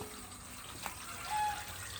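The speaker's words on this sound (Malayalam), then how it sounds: "അപ്പോൾ ഇതാ വെള്ളം പോയിക്കൊണ്ടിരിക്കുന്നുണ്ട്" Water running out of a water filter during backwash, a quiet, soft steady flow with a faint trickle and one brief click, heard close and alone.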